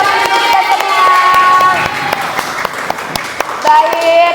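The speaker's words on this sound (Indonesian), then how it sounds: "Tepuk tangan untuk kita semua." Group applause and cheering at a workshop or training session, scattered claps and shouts with some voices mixed in, moderately loud and continuous throughout.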